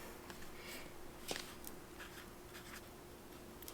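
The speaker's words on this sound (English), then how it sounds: "just write the date" A pen writes the date in a sketchbook, a faint, soft scratching of short strokes and pauses heard up close in a quiet room.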